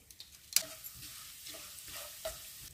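Turmeric and crushed red chili hit hot oil with a quiet, steady sizzle, broken by a sharp spoon clink and a few soft stirring scrapes.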